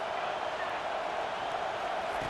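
A stadium crowd in EA Sports College Football 25 roars in a steady, dense wash of cheering that holds constant throughout, loud and distant-sounding, with no clear breaks.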